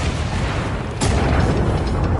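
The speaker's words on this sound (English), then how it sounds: "That's the blasters." Blaster fire in the Star Wars Jedi Fallen Order game: a single sharp burst about midway, standing out over a steady din of game noise and rumble.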